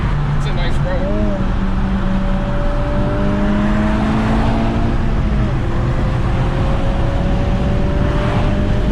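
Honda Civic Type R with a VTEC turbo engine driving on a road, a loud steady engine drone with rising and shifting tones over heavy road and wind noise throughout.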